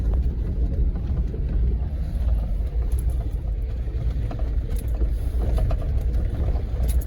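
A vehicle drives an off-road desert road near Plomosa Road in Quartzsite, Arizona, its steady engine rumble and tire noise continuous and close throughout, with occasional rattles and no talking.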